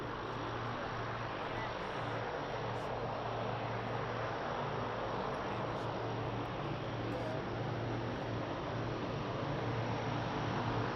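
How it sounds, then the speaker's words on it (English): A Portuguese Air Force C-130 taxies to the holding position at Lisbon Airport, its engines a steady distant drone and rumble that stays unbroken throughout. "So we will have the C-130 Portuguese Air Force. There he goes to the holding position here"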